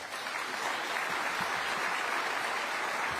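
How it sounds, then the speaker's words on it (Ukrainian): An audience claps at a summit, a steady dense patter of many hands heard alone and moderately loud for a few seconds. "Оплески."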